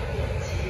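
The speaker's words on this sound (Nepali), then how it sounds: "जापानको ट्रेन चाहिँ जेल रेल आइसकेको छ है" A Japanese train pulls into Ikebukuro station with a steady low rumble and a broad mechanical roar, close and loud, over a very short span.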